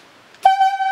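A highlead logging whistle signal sounds as one sharp, clear tonal blast that starts abruptly and holds steady to the end, loud and alone.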